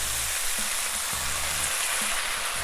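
Soy sauce hitting a hot wok of noodles with onions, peppers and garlic gives a steady, loud hiss and crackle throughout, with faint low hum beneath and no voices.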